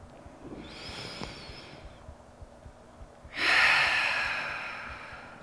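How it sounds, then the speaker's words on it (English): A deep breath drawn in and let out during a standing yoga pose before moving toward warrior 3, heard close and alone: a soft airy inhale followed by a louder, longer exhale that slowly fades. "As we take our last breath here"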